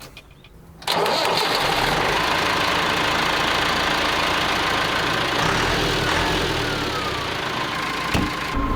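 A large farm machine engine cranks and catches, then settles into a steady, loud idle that runs on unbroken.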